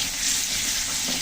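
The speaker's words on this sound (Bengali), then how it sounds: "এখন আলুগুলো ভেজে নেব সামান্য একটু হলুদ দিয়েছি আলুর সাথে" Potato pieces with turmeric frying in hot oil, a brief close crackling sizzle that stays steady, with no voices.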